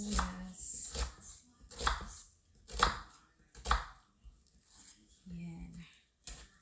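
Knife chopping onion on a board for pork fried rice, a run of sharp separate cuts in uneven rhythm, close and clear, with a few quiet gaps between strokes.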